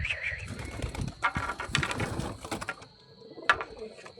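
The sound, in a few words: pigeons cooing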